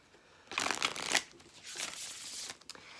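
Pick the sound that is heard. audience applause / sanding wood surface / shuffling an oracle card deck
shuffling an oracle card deck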